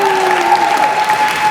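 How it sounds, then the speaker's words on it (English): An audience applauds during a Senate address by Senator Amy Klobuchar, a brief steady patter of clapping with a faint tonal hum running underneath. "That supports the longest applause line ever."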